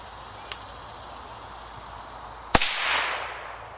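A Ruger 10/22 rifle fires a single CCI Stinger round, one sharp, loud crack followed by a brief decaying echo, after a faint click and low background hiss.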